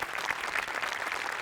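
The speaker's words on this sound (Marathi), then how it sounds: "एकदा जोरदार टाळ्या व्हायला पाहिजेत" Audience applause at a live comedy show, a dense, even wash of many hands clapping at moderate loudness, continuous for the whole short stretch with no voices standing out.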